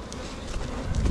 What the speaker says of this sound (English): There's still plenty of bees in here, and they'll keep doing their thing.